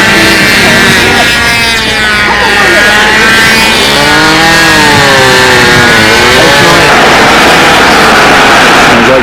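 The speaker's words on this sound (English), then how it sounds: "Sounds like they're spooling up now." Full-size Eurofighter Typhoon jets spool up their engines on the ground after the canopies close, a loud steady roar with rising and falling whine tones throughout, while a person talks over it.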